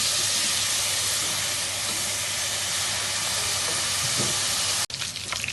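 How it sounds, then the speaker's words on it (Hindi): Chicken for yakhni palao fries in a pot, giving a steady, dense sizzle and hiss that runs unbroken and fairly loud before a brief break near the end. "इसको हम लोग तकरीबन 10 से 15 मिनट फ्राई करेंगे, जब तक चिकन ब्राउन हो जाए।"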